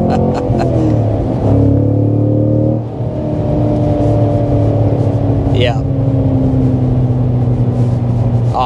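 A 2024 Cadillac CT5-V Blackwing V8 rear-drive sedan pulling hard, steady loud engine drone with a shift partway through and rising pitch, heard from inside the cabin.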